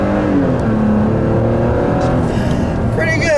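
A 2016 Toyota Tacoma TRD Sport 4x4 with a direct-injected 3.5 liter V6, transmission in sport mode, accelerating hard on a back road: loud, steady engine roar with rising tone through the whole stretch, heard from inside the cab.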